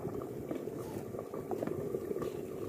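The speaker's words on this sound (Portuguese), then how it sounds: "aí deixa ferver, né? Ferver e vai apurando." Feijoada simmers in a pot on a wood-fired stove, giving a soft, continuous bubbling and gurgling at low volume, with no voices.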